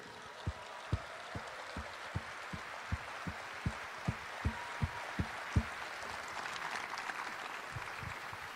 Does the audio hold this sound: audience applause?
yes